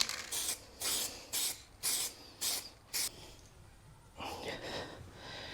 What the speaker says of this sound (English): I'm just going to put a quick clear coat over that to stop it rusting.